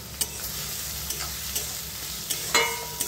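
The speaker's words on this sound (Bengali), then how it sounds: "পেঁয়াজগুলো খুব বেশি ভাজবো না, শুধু নরম হওয়া অবধি ভাজবো।" Chopped onions fry in a pan until soft for chicken keema paratha: a steady, close sizzle with occasional sharp clicks and scrapes from stirring, and no voices.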